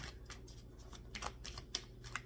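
Tarot cards shuffled by hand in a quiet room, a run of soft, brisk riffling bursts with a few sharper card snaps, faint and close with no talk.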